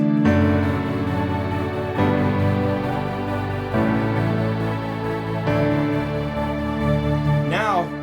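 A dense synth keyboard chord pattern pulses in chopped, rhythmic bursts, changing harmony every couple of seconds, ending with a sweeping pitch bend.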